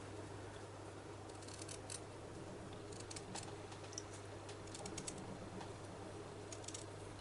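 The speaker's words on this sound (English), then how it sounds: "So now we have to cut it out with a border." Scissors snipping around a fabric appliqué to cut it out with a border for needle-turn sewing, faint close clicks and crunches in irregular short runs over a steady low hum.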